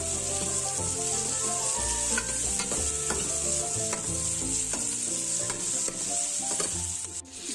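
About two chopped onions frying in two spoons of oil in a pot make a constant loud, close sizzle, with occasional light stirring scrapes throughout and no talk.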